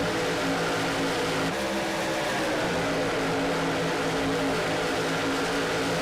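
Helicopter filming a car race at Auto Club Speedway in Fontana, California, heard as a continuous loud rotor and engine drone, steady and dense throughout without voices.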